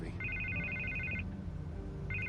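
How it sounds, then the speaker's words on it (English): A telephone rings in the Batman Telltale video game, a repeating electronic trill that sounds for about a second, pauses, then starts again over low background game ambience. "And I can't get the phone to stop ringing."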